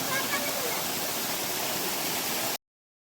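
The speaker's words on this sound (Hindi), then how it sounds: "वैसे तो बारिश के दिनों में यहाँ पे बहुत भयंकर और तूफानी रूप से ये झरना गिरता है" A cave waterfall with reduced summer flow pours in a steady, broadband rush of falling water, close and constant, then cuts off abruptly before the end.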